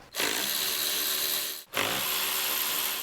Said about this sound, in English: Just gonna pull all those bolts out.